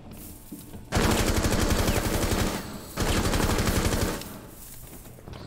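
Automatic gunfire in a Rainbow Six Siege tutorial level, two long rattling bursts of rapid shots, loud and close, separated by a short pause, with no talking over them.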